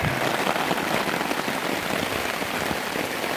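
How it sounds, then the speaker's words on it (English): Rain pattering steadily on a hammock tarp, a dense close drumming hiss that holds constant throughout with no voices. "I am getting some rain blowing in at the end of the tarp"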